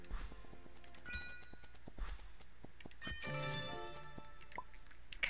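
Horse hooves clip-clopping in the video game Horse Life, as a few soft, spaced taps alongside bright chiming game tones over a quiet background.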